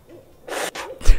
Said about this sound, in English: Those are owls.